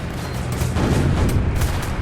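Video game explosions in Northend Tower Defense: a rumbling burst of deep, overlapping booms that swells in the middle and rolls on for about two seconds.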